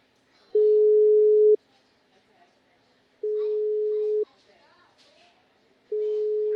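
A telephone ringback tone sounds on a call, three steady one-second tones separated by pauses of about two seconds, clear and alone.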